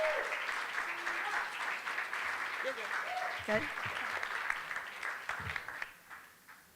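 Audience applause at a submitters' conference in Virginia, a dense wash of clapping that runs throughout and fades toward the end, with a few voices talking over it.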